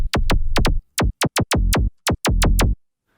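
Psytrance snare punch layer from a Sytrus synth with its volume envelope switched off: about a dozen loud, sharp, pitch-dropping hits fired in quick irregular bursts, each ringing briefly with a buzzy tail, no voices.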